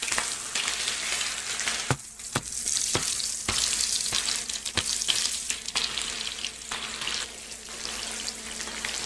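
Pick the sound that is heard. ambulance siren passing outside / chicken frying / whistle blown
chicken frying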